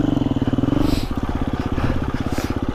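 A 250cc motocross motorcycle engine pulses close and loud, its rapid thumping beat rising and changing as the throttle is worked, with no talking over it.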